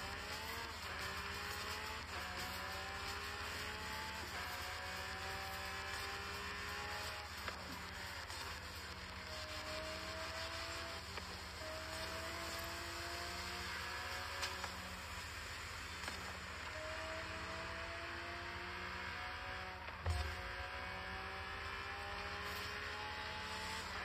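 A Lamborghini Centenario in Forza Horizon 5 holds a loud, steady high-revving engine drone, with repeated gear-change pitch sweeps rising and dropping every couple of seconds, alone with no talk.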